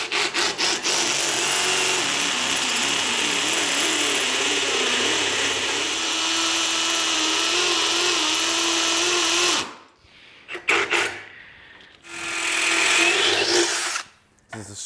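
A power drill grinds hard into a tough 3-inch concrete garage slab, loud and continuous for about ten seconds, then cuts out and gives a few short bursts.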